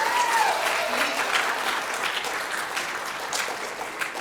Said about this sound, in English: So big round of applause for Addie and Dusty Skinner.